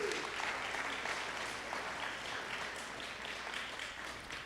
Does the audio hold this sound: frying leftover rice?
no